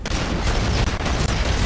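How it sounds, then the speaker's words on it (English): A 9-bang stun grenade detonates in Call of Duty: Ghosts multiplayer, a dense, loud roar of rapid overlapping bangs that fills the whole moment with little pause. "I'm gonna throw a 9-bang."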